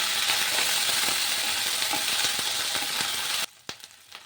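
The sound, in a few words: onions with ginger-garlic paste frying in a pan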